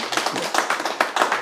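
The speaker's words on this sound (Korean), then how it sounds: "동의하시면 박수 한번 치세요." An audience claps during a Korean history lecture: a brief burst of scattered, uneven hand claps at moderate volume, with no talking over it.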